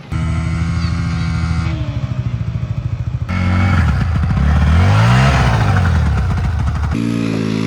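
A sports motorcycle ridden along a sandy riverside road, its engine loud and close, droning and revving with rising and falling pitch and some rattling.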